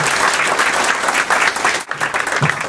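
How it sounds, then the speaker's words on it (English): Audience applause after a speaker's closing remarks, a steady, loud wash of clapping filling the room throughout, dipping briefly near the end before continuing. "We're going to applaud you."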